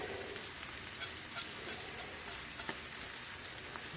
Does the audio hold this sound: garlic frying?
yes